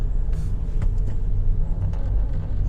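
Istanbul city traffic heard from inside a taxi: a steady low engine and road rumble with a few brief clicks and knocks, no talk.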